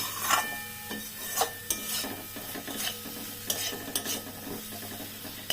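Fish curry filling with rohu and pointed gourd is fried and stirred in a pan, with a soft sizzle under repeated scraping strokes of a spatula at an irregular rhythm, close and fairly quiet.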